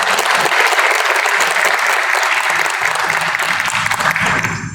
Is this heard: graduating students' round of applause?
yes